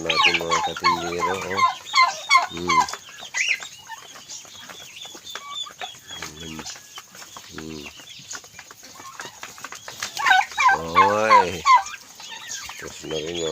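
A turkey gobbling nearby at a farm: several loud, rapid warbling bursts separated by quieter stretches, with faint clucks and bird sounds in the gaps.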